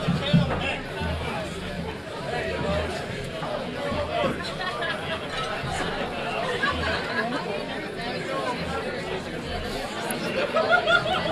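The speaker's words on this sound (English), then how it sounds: "That's got the crowd excited" Crowd chatter and murmuring from spectators at a professional nine-ball match in New York City, a steady hubbub of many voices with a few brief laughs, moderately loud and continuous throughout.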